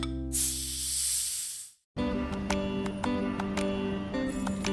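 Sparkling water hisses and fizzes loudly as it is poured or sprayed, a bright rushing burst lasting under two seconds, then cutting off abruptly before music takes over.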